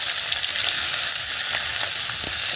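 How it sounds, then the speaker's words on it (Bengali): Chopped onions fry in oil in a kadai with a loud, dense, unbroken hiss and sizzle, heard close up with faint stirring ticks and no talking. "এবার আমরা দিয়ে দিব কড়াইতে কাটা পেঁয়াজ।"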